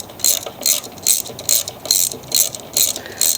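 Ratchet wrench turning the bolts that hold the fuel tank on a Craftsman riding mower, a steady run of about eight quick clicking bursts in even rhythm, close and clear with no talk.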